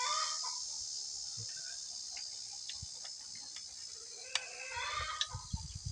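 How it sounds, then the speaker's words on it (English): Chickens cluck and squawk in scattered bursts at a distance, over a constant high trill of crickets. "Feels like some of my chickens are over there getting all mad."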